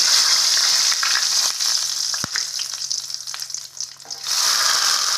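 Cardamom, cinnamon and bay leaf fry in hot oil with a loud, steady, close sizzle, which dips briefly in the middle as the spices are stirred, then surges back.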